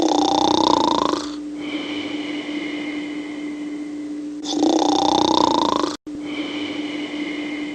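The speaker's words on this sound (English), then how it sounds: "Dr. Beanson's snoring is so loud, I can't sleep" Loud snoring from a cartoon character, Dr. Beanson, in two long rasping inhaled snores with a quieter droning stretch between them, close and steady with no talk.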